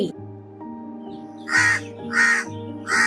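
A crow caws three times in a steady, evenly spaced rhythm. The calls are loud and close over a low background hum.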